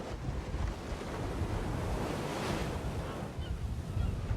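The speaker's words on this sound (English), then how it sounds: "a life tested by the brutal power of crashing waves" Ocean waves crash and wash continuously on the rocky Point Lobos coast, with broad roaring surf and gusty wind noise buffeting the microphone.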